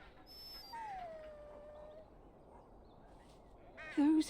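Large dog in the Dragon Age: Origins video game whining, a long falling whimper and yips over a low ambient game background, ending with a short loud bark-like burst.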